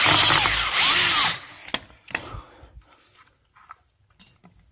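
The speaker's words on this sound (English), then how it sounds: "I really don't have to film me taking out all the screws" A power drill drives screws out of a concrete skateboard mold in a loud, steady burst for just over a second, followed by sparse clicks, rattles and handling knocks as the tool is set down.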